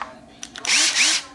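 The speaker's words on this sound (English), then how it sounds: "So I can drill my holes" A power drill spins up and bores holes for mounting a carbon fibre GT wing on an R33 GTS-t, with short bursts followed by a sustained rising whine, close and fairly loud.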